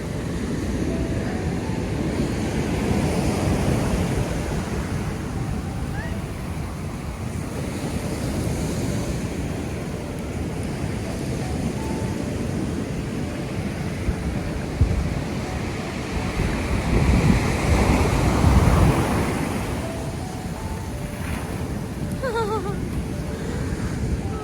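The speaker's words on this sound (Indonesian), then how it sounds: "Ombaknya sadis banget tuh. Gede banget ombaknya." Big ocean waves break at Diamond Beach, Iceland, in a constant heavy roar mixed with gusting wind buffeting the microphone, with a stronger surge swelling and crashing past midway.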